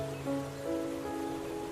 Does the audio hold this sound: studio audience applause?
no